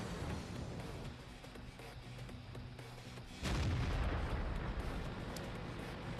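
A tank cannon fires in a tank video game: one heavy, loud boom lands partway through, over continuous rumbling battle and engine noise.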